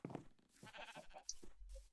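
Sheep bleat in a Minecraft-style video game as several short, soft calls come in quick succession, quiet and separate from one another.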